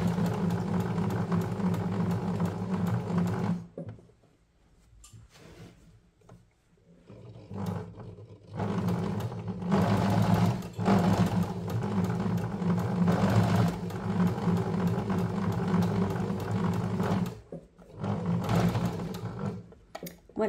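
A sewing machine stitches a hem on a jacket, running in loud sustained bursts of rapid mechanical whirring, broken by short pauses and slow, careful restarts, heard up close.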